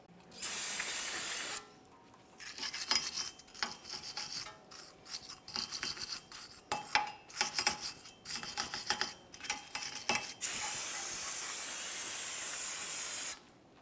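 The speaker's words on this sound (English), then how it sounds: "We'll go ahead and use a wire brush and some parts cleaner for this." Parts cleaner sprays in loud hissing bursts at start and end onto a GMC Acadia rear wheel hub, with rapid rhythmic wire-brush scrubbing on the metal surface in between, close and without talk.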